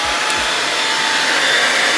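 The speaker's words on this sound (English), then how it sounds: "I go with this blow dryer, and y'all see the combs on it" A handheld blow dryer with a comb attachment runs close by in a loud, steady whooshing hum, with the airflow shifting slightly as it moves.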